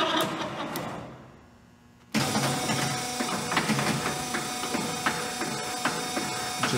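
A 1980 LeBlond Regal 15 x 30 engine lathe with hydraulic servo shift running through its speeds. The mechanical whir dips briefly, then jumps back to a steady loud hum and rattle with faint ticking clicks.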